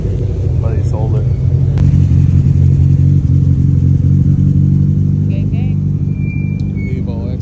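Mitsubishi Evo cars roll into a car meet with a steady, close engine rumble, joined by brief clatters and a few faint voices in the background.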